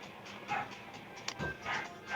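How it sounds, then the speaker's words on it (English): A dog pants and whimpers faintly in the background of a quiet room, in soft bursts that come and go. "So that's why you hear my sister and dog in the background."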